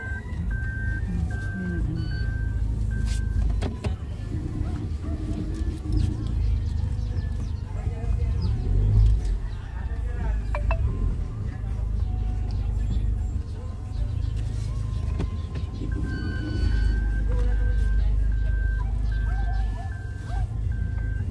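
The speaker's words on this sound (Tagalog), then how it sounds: "Sige si Kuya Mel, nahihirapang mag-backing. Maliit po kasi yung kalsada dito" On a narrow road a car slowly backs up amid a constant low engine rumble, and repeated electronic reversing beeps sound at the start and again near the end. People talk over it, with outdoor street noise behind.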